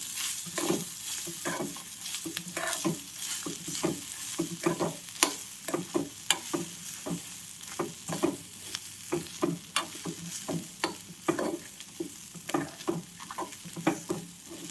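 Fresh grated coconut is stir-fried in a pan, giving a steady soft sizzle broken by frequent scraping and clacking strokes of a spatula in a loose, continuous rhythm.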